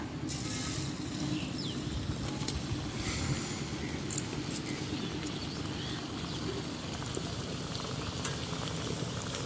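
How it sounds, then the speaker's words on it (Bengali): Gur pitha, Bengali jaggery cakes, fry in hot oil with a steady, dense sizzle and bubbling that carries evenly throughout, with a few sharper pops and spits on top. "এইভাবে একে একে আমি সবগুলো পিঠে ভেজে নিব"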